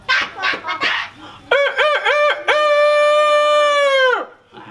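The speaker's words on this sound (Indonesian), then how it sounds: "Kira-kira tadi suara ayam jantan atau ayam jago?" A rooster crows loudly and close, a long drawn-out cock-a-doodle-doo with rising, stuttering notes before it. Several sharp clucking bursts come first.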